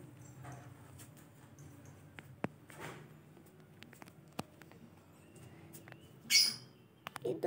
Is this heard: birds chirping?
yes